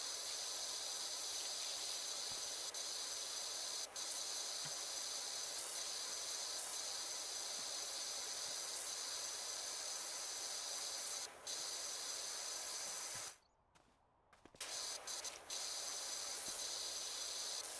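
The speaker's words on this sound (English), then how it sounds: "It's good power washing." A pressure washer jets a steady, loud, close hiss of spraying water in the game Power Wash Simulator. The spray is continuous, with a brief gap near the end before it starts again.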